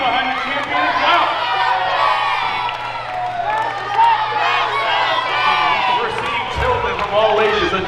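A wrestling crowd of adults and children cheers and chants for Jake Sterling during a title match against Cam Fox, a loud, sustained roar full of shouts and whoops.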